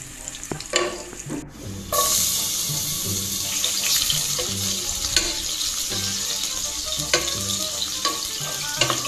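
Garlic and onion sauté in a pan with a loud, continuous sizzle, punctuated by repeated scraping stirs and a sharp clack early on.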